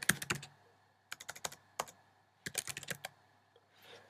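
Bursts of typing on a computer keyboard, clustered key clicks separated by short pauses, close and fairly quiet against a low steady hum, with no voices.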